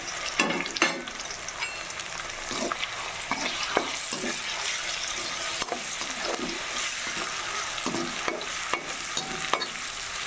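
Onion, garlic and tomato with salt and turmeric frying in oil for a dry cauliflower dish, a steady sizzle broken by repeated scraping stirs of a spoon against the pan.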